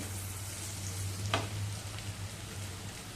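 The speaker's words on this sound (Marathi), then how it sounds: "मसाला चांगला तेलामध्ये परतवून घेऊया" Spice masala for stuffed brinjal is frying in hot oil with asafoetida and turmeric. It makes a soft, steady sizzle with one brief scrape partway through.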